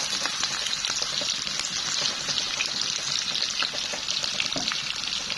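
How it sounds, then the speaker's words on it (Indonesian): Ingredients sauté in hot oil in a pan, giving a continuous close sizzle with scattered crackles and pops, steady throughout and free of voices. "Untuk menumis ya, ininya ditumis."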